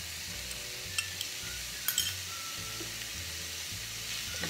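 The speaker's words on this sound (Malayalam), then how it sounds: "അതിലോട്ട് നമ്മൾ ക്രഷ് ചെയ്ത് വെച്ചിട്ടുള്ള ചിക്കൻ്റെ പീസൊന്ന് ഇതിൽ ഇട്ട് കൊടുക്കും." Crushed chicken pieces sizzle in a hot pan while being stirred, a soft steady fry with a few light clinks of the spoon against the pan.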